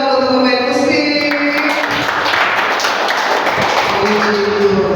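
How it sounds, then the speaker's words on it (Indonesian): A church congregation in a prison service applauds the musicians, a dense, steady wash of clapping that fills the clip over sustained music tones and a low background hum. "Sekali lagi tepuk tangan dong untuk pemain musik."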